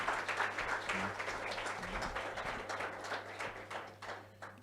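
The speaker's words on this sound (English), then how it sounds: "Round of applause." An audience at a chat event gives a faint round of applause, scattered claps rising and falling for a few seconds at a low, distant level.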